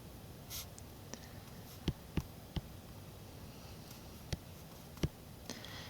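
Sparse, faint clicks of buttons pressed on a calculator keypad, irregularly spaced sharp taps over a quiet hiss, with no talking.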